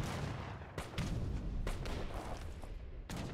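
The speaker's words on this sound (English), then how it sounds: "One more shot from the rocket." Rockets firing and booming in a strategy video game, a few heavy blasts spaced apart over a rumbling battle backdrop of musket-like shots, moderately loud.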